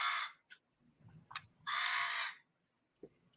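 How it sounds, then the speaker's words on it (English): A rook caws in a garden, two long harsh calls with shorter squawks between them, fairly close and alone against a quiet background, with faint low murmurs in the gaps. "Is that a crow or something?"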